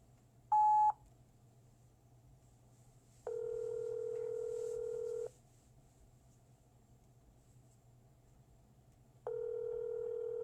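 A short telephone beep on a voicemail line during a real estate cold call, followed by two longer steady electronic tones a few seconds apart, over faint line hiss with no talk.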